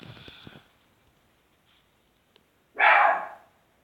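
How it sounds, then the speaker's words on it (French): A pet dog gives one loud, sharp bark nearby after a few seconds of near quiet, with faint earlier yips and sounds at the start. "c'est mon chien qui aboie"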